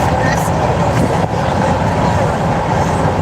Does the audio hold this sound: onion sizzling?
no